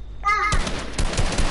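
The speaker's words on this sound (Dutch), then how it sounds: "Ik hoor de bandits kanon." Rapid bursts of gunfire from bandits in a shooter video game rattle loudly and continuously after a brief whistling tone at the start.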